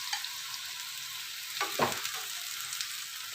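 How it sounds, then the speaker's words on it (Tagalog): Shrimp frying in a butter and garlic mixture sizzles steadily and loudly, with a brief burst of stirring or added sizzle midway through the continuous hiss. "Ilagay natin yung ating hipon."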